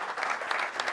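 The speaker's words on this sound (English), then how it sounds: "give a round of applause for the excellent panelists today" Audience applause for the panelists at a tech leaders' panel, a steady, dense wash of many hands clapping together, filling the whole moment at an even level.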